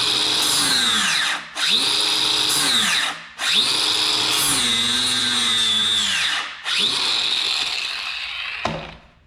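An old Bosch angle grinder fitted with a flap disc whines loudly in several bursts, each revving up, holding a steady high-pitched drone, then spinning down, with short gaps between runs.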